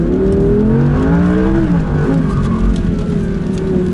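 A rear-wheel-drive Audi R8 V10 RWS accelerates hard with a loud, close V10 whose engine note climbs steadily in pitch, sliding between gears with no voices over it.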